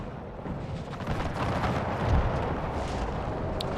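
Dense rumbling battle noise from the video game Empire 2: massed musket gunfire and artillery blasts blur into a continuous roar, with one heavier boom near the middle and no voices.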